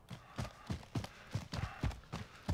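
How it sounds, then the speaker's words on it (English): The player's own footsteps in Call of Duty Modern Warfare thud in a steady, evenly spaced rhythm, loud and close, with a clip-clop quality and no talk over them. "Oh, but my own footsteps is making me nervous."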